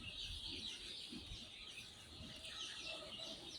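Chickens of four breeds kept in an indoor hatchery cluck steadily as a dense, continuous flock murmur, moderately loud and close, with no talking.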